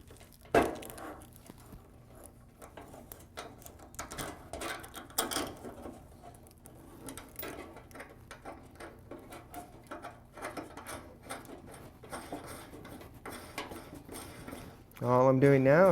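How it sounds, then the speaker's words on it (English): A nut is tightened by hand while a kitchen faucet is installed, making quiet ratcheting, clicking and scraping mechanical sounds close by, with speech coming in at the end. "All I'm doing now is tightening the nut in place."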